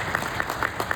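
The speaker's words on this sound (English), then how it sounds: "You can give a clap for it." Scattered, moderately close clapping from an audience at the inauguration of a mental health centre by Rotary Club Delhi North, a few distinct claps over a steady room murmur within about one second.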